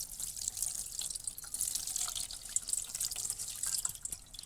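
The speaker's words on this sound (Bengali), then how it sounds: "এখন একটু ঘরের জল দিয়ে আমি একটু ধুয়ে নেব।" Running tap water splashes steadily over chopped leafy greens being rinsed in a sink at home, a continuous close hiss with small irregular drips and splashes throughout and no voices.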